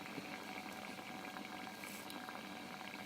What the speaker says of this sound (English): That is literally heating the water with all the current that's flowing.